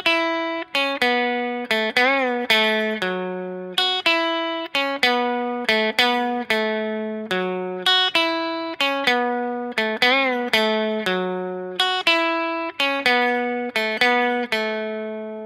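Distorted electric guitar plays a repeating riff of picked notes and bends from a song, clear and loud, with no voices.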